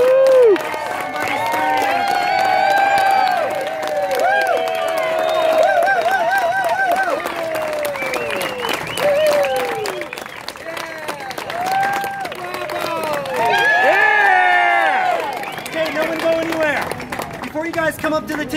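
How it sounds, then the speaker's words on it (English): A street crowd on an outdoor pedestrian mall claps and cheers for a busker, loud and sustained applause with shouts and whoops, while a voice talks over it and children call out. "Everyone, please clap with me."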